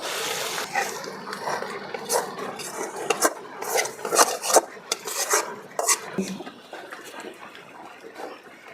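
Spoon scraping and stirring spiced rice and lentil khichuri with papaya in a metal pot on the stove, loud close rasping strokes in an uneven rhythm with metallic clinks.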